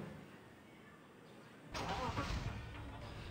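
A car engine starts up in the Rope Hero video game. The engine kicks in abruptly partway through and runs at a steady mid-pitched idle after a quiet lead-in, fairly faint overall, with a voice faintly present.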